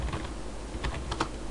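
Fingers tap a computer keyboard while a command is entered on an Ubuntu desktop, producing a few soft, close clicks in an uneven cluster over steady background hiss, with no voices.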